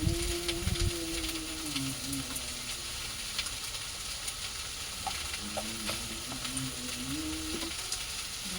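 Raw vegetables with turmeric fry steadily in hot oil, a continuous close sizzle with occasional stirring scrapes and no talking.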